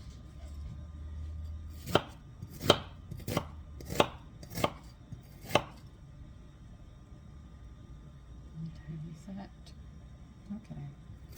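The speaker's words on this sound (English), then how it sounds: "I know I'm using a slicer instead of a chopping knife." A slicer knife chopping food on a board in a home kitchen, six sharp, evenly spaced knocks close up in quick succession, then quieter handling noises.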